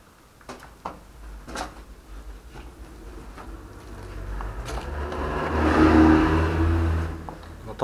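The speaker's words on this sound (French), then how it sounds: "On entend les voitures." Cars pass outside an old castle, a steady low traffic rumble that swells toward a louder passing vehicle near the end, with faint knocks and movement nearby.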